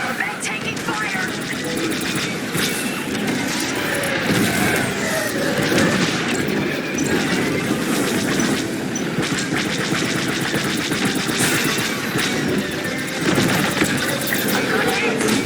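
Dense, continuous laser cannon fire and explosions from starfighters striking a Corvette in the Star Wars Squadrons video game, a loud, unbroken barrage with rumbling engines, with radio voices talking over it.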